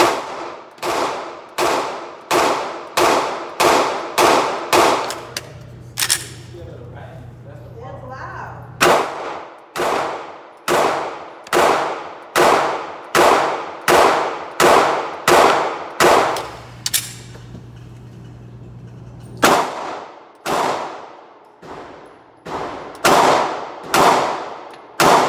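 A Glock 43X pistol fires in rapid strings of sharp, loud reports, around a dozen shots in each volley with two short pauses between the groups, each crack ringing out briefly on an outdoor range.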